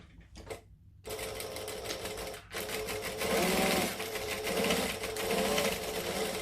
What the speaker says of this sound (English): I'm just going to go along and stitch the straight edges.